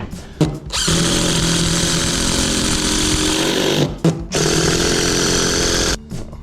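A power drill bores into a wall for plugs and screws during a house renovation, two long, loud, steady whining runs of several seconds each, separated by a short pause with brief knocks, close by and without talk.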